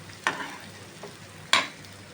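Onion egg curry cooks in a pan with a faint low sizzle, and two sharp scraping stirs of a spoon stand out against the quiet background.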